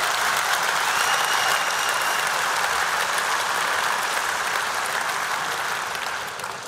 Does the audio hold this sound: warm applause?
yes